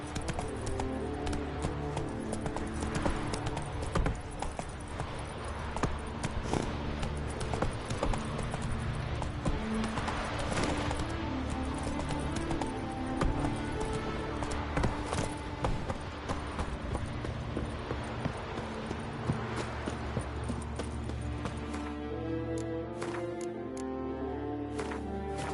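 Roach, Geralt's horse in The Witcher 3: Wild Hunt, gallops through Skellige, a steady run of hoofbeats layered under game music and ambience, moderately faint throughout.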